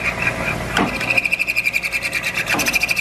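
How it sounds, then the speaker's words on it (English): A milling machine spindle is pulsed on and off, with a high steady whine rising in sharp pulses, then a fast rhythmic whir slowly winding down as it coasts toward a stop. "pulse the spindle on and off like this, and you can come right up into the corner. Let the spindle almost coast to a stop."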